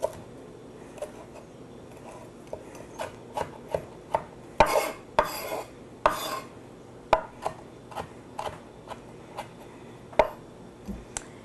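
Parsley, about a quarter cup, chopped with a knife on a cutting board: a steady run of sharp, close knocks at an uneven rhythm, with a brief scraping burst midway and no talking.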